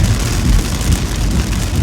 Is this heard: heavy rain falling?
yes